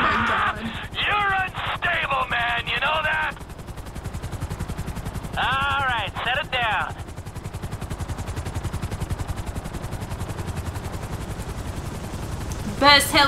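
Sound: video game gunfire from helicopter

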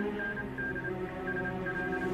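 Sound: telegraph transmitting, in a TV drama

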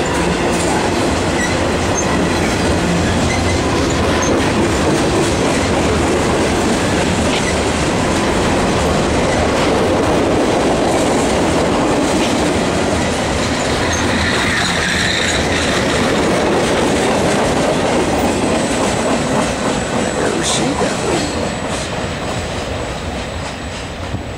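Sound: freight train passing

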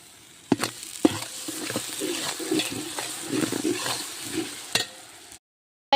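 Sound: ginger garlic paste frying and being stirred in a pot

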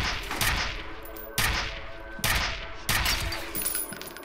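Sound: shotgun firing in slow motion in video game FEAR

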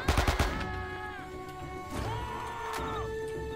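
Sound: gunfire in video game Men of Valor

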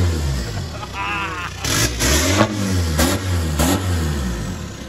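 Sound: Golf 4 1.9 TDI diesel engine revving, custom exhaust

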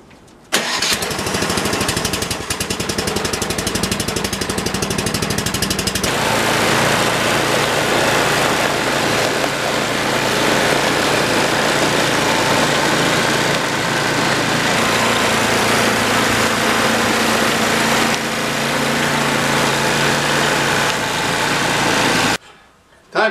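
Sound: old snow blower engine running

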